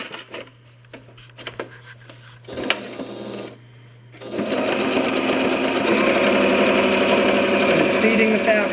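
A Singer One sewing machine runs a straight stitch, a steady close mechanical whir that starts after a few handling clicks and a low hum and keeps an even rapid rhythm to the end.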